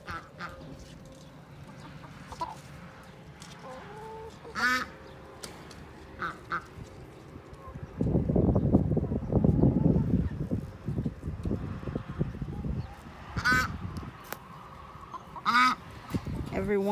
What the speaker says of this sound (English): These ducks are the loudest thing.